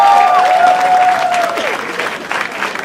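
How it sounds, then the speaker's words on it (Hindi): A studio audience claps loudly in a dense, continuous burst while a voice carries over the top, the clapping easing slightly toward the end. "जोरदार तालियां हो जाए।"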